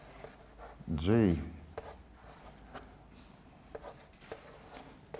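Chalk or marker scratching across a board in a lecture on quantum integrable systems, a few short strokes under the lecturer's speech.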